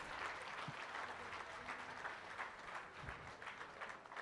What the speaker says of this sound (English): Let's have a huge, big round of applause